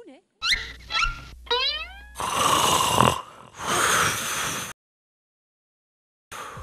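Loud snoring from a person, several long rasping breaths in a row close to the microphone, preceded by squeaky cartoon-like sound effects and followed by silence.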